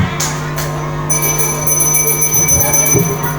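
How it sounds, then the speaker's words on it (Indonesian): A bell rung on stage in an elementary school folk drama, summoning a dragon: a sharp struck onset followed by a long, steady ringing tone that sustains throughout over faint room noise and murmurs. "menginginkan genta untuk memanggil naga bersuci"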